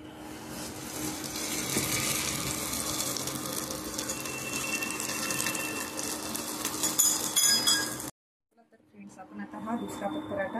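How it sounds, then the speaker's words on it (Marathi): A sprout paratha goes onto a hot tawa griddle and sizzles with a dense, steady hiss for about eight seconds, then cuts out abruptly before a quieter sizzle returns. "पराठा टाकूया आता तव्यामध्ये."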